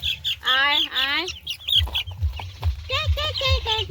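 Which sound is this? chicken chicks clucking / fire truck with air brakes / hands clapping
chicken chicks clucking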